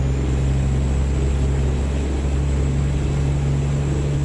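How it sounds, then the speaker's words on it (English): Kenworth KW900 truck in American Truck Simulator with its Jake brake on, heard with the window down: a loud, continuous low throbbing engine drone that stays steady throughout. "See how the Jake brakes down with the window down."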